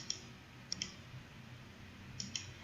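A few sharp computer mouse clicks while filling in an online form, a single click, a quick pair, then another pair near the end, fairly quiet against low background hum.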